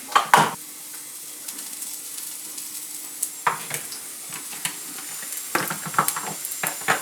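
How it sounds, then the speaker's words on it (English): Food is tossed in a pan with a little butter: sharp metallic clanks and scrapes come up close, with a soft sizzle running between them and no speech. "toss it back in the pan, and we add a little bit of butter"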